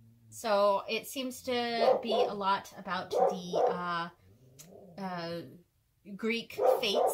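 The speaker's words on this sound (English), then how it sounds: "Sorry about the dog." A dog barks indoors in sharp, repeated bursts, mixed in with and partly under a person talking continuously nearby.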